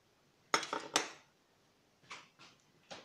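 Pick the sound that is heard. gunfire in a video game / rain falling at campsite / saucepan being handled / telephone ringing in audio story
saucepan being handled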